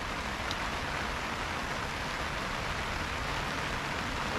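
Steady rain falls at a carp fishing swim at Drinkwater Park, Manchester, a dense continuous hiss of drops on water and surfaces that stays loud and even throughout.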